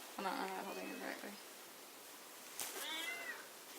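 A cat meows twice, a clear near cry at the start and a second, slightly wavering meow a couple of seconds later, with quiet room background between and no speech.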